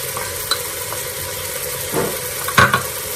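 Ginger and garlic paste sautés in oil for mutton biryani, a soft continuous sizzle with a few scraping stirs, one louder clatter near the end, no speech.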